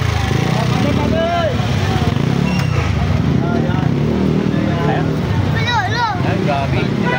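Many motorcycles on a busy Divisoria market street, engines droning steadily and close throughout, with crowd chatter and voices talking over the traffic.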